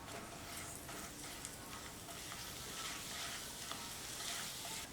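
Turmeric, chili powder and pepper sizzle in hot oil as they are stirred, a continuous crackling fry with soft scraping strokes, close and fairly quiet, without any voices.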